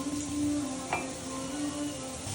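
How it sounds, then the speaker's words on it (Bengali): Egg poured into a hot pan, sizzling steadily as it is stirred, with a brief scrape of a utensil partway through; a continuous close frying hiss throughout. "এবার দেখো আমি এখানে ডিমটা ঢেলে নেব"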